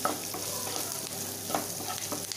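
Onions frying in a pan for a spicy prawn roast are stirred, giving a close, steady sizzle with brief clinks of the spoon against the pan and no speech.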